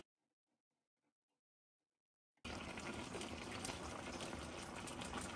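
Minced garlic and tomato sauce cooking in a pot, near silence with a few faint taps, then a sudden loud, steady bubbling sizzle that keeps going to the end.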